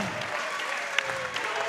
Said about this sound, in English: The crowd's going crazy right now.